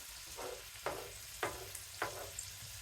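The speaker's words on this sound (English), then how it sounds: "So we'll let our onions cook for just a few minutes." Onions sizzle quietly in a pan over high heat, with a soft steady frying hiss and a few gentle stirring scrapes repeating at a steady pace.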